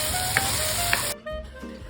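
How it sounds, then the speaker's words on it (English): Two garlic cloves sizzle in a hot pan as they are stirred, giving a bright, steady frying hiss for about a second before it drops away to a quieter, duller sound. "Add 2 cloves of garlic to infuse the dish with aroma. Keep stirring for about a minute until you can smell the garlic."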